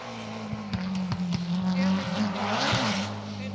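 A BMW E30 M3 rally car races along an asphalt stage at the Jim Clark Rally, its engine note rising and falling through gear changes with sharp pops and tyre noise, while a commentator talks over it.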